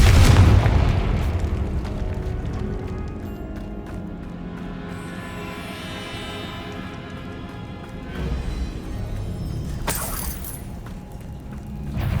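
Confringo blasting spell explosions from the video game Hogwarts Legacy: a loud booming blast at the start that fades into a rumbling, ringing tail, then a second burst around two-thirds through and a sharp crack near the end.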